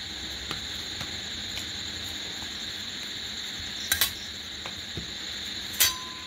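Rumali paratha frying in a pan, a steady low sizzle running throughout, with a couple of brief sharp clinks of a utensil against the pan.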